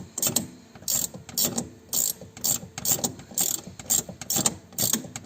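A hand ratchet loosens the upper shock absorber nut on a BMW 330ci with N52 engine, giving repeated bursts of sharp clicking strokes in a steady rhythm, close and clear.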